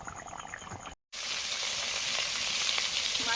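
Fish frying in a pan with mustard paste, a dense, steady sizzle that starts after a brief silent gap and carries on loud and close.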